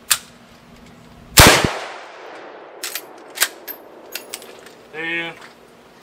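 One sharp, loud 32 Winchester rifle shot fired at a backpack outdoors, followed by a trailing echo, light clicks and a brief voice.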